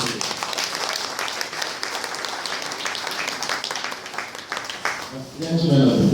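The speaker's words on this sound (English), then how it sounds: "the Honourable Commissioner deserves another round of applause" An audience at a ministerial press briefing for an energy and mineral resources ministry applauds steadily throughout, a continuous wash of clapping that swells slightly at the close.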